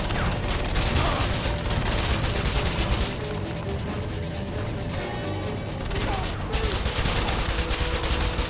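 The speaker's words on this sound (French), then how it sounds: "Merde, je tire sur ma femme." Gunfire in the Wanted video game, dense volleys of shots with crashing impacts that run almost nonstop and hit hard and loud, with a short lull partway through.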